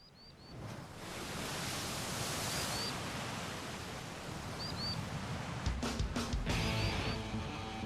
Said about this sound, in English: Minoru stood on the deck as his ship set out across the rolling waves.